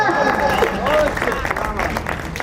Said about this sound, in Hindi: जोरदार तालियां, दोनों हाथ ऊपर उठाकर।